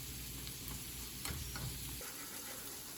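Onions frying in a pan give a steady, close sizzle and hiss throughout, with a few faint stirring ticks and no talking.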